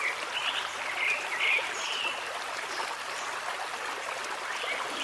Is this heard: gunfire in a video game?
no